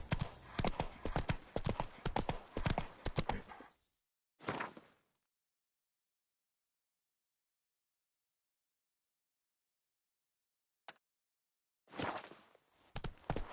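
Hooves of Roach, Geralt's horse in the video game The Witcher 3, clip-clop rapidly and loudly for about four seconds. A brief burst follows, then long silence, a tiny click, and the hoofbeats resume near the end.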